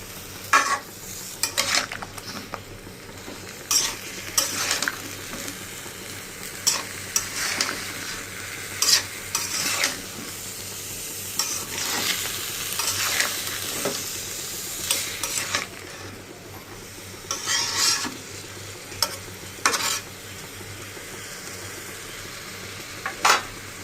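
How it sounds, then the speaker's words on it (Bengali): Eggplant pieces fry with turmeric, coriander powder and salt in a pan, a steady sizzle punctuated by repeated scraping strokes and spatula clinks against the metal. "এখন বেগুনগুলো একটু হালকা কষিয়ে নিব অল্প সময়ের জন্য"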